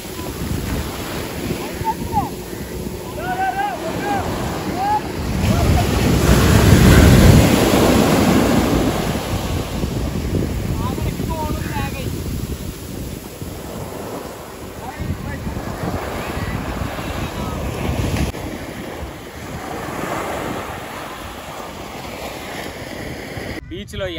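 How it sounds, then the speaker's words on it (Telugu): Ocean surf rolls and crashes at Chavakkad beach in Kerala, with loud wind buffeting the microphone throughout and faint voices in the background. "ఈ కేరళలో ఇక్కడ చావక్కడ్ బీచ్ చూడండి ఎంత బాగుందో"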